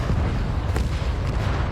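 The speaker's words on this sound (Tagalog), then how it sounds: "Sa itaas, sunod-sunod na ibinagsak ng jet ang mga bomba." Bombs dropped from a jet explode on a battlefield, a deep rumbling blast with a sharp crack near the middle, rolling low boom throughout, distant and heavy.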